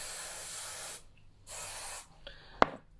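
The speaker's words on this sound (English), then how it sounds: "we're going to just give everything a light spray with the hairspray" Two bursts of hairspray from an aerosol can, each about a second long, are misted onto hair being styled into curls, followed by a short sharp click.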